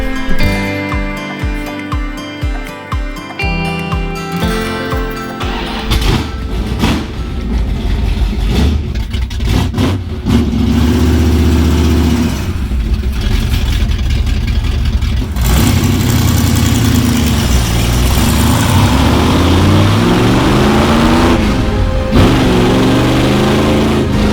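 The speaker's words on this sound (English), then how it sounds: "That sounds way healthier. Turns out we had the V6 before, now we've got a V8." A 1970 Dodge Challenger's V8 engine starts with rhythmic cranking pulses, then roars into a loud, deep idle with several revs rising and falling, close by.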